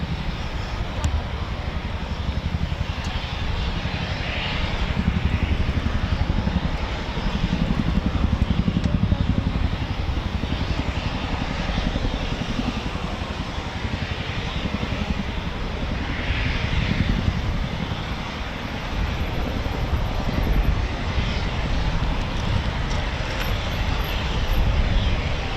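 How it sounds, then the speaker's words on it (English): A Chinook twin-rotor helicopter flies past, a loud, steady broadband roar of engines and rotors that swells and fades gently for the whole stretch, with faint voices now and then. "Yep, that's a Chinook, isn't it?"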